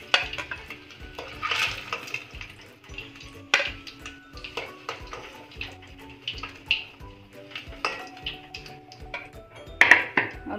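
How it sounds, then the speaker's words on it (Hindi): Eggs frying in a pan for an egg curry, with clinks and scrapes of a utensil against the pan over a light sizzle, irregular and close. "और बाकी के बचे हुए अंडे भी हम इसे ऐसे ही फ्राई कर लेंगे।"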